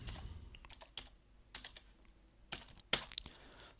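Quiet, close typing on a computer keyboard, a few scattered keystrokes and short bursts of clicks with gaps between them.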